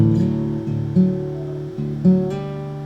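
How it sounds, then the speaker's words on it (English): Guitar picking a low D then a high D with a hammer-on, a few plucked notes ringing close and clear in a short, slow pattern, no talking. "you're going to hit this low D and then the high D. And then you're going to hammer on fifth."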